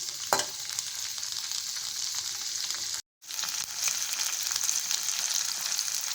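Tomato and one onion frying in a pan: an even, close crackling sizzle that holds steady, with a knock at the start and a brief drop to silence midway before the frying resumes.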